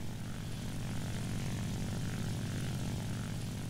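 Steady, even drone of a J2M3 Raiden propeller fighter's engine in War Thunder, a continuous low throbbing hum heard alone at moderate level.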